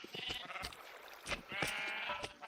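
Several sheep bleat in a Minecraft wool farm, the calls overlapping and fairly close, with short tonal cries repeating across the moment amid faint game ambience.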